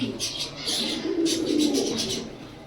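A racing pigeon in a loft coos in soft, repeated low rolling calls, close and steady, with faint chirps from other birds in the background.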